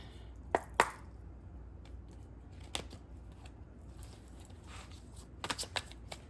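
Tarot cards being shuffled, heard as a few sharp riffles and taps scattered across a quiet background, close and fairly faint with no talking.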